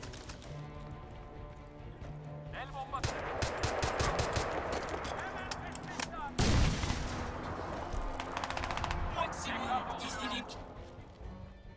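Enemy gunfire in Crysis 2 rattles in rapid automatic bursts, broken by one sharp, loud blast near the middle, while a player speaks over the shooting.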